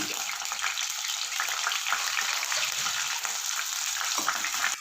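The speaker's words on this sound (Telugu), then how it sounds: "ఎండు రొయ్యలు వేసి చక్కగా వేయించుకోవాలన్నమాట" Dried shrimp fry in hot oil, a dense continuous crackling sizzle, close and steady, with no talking.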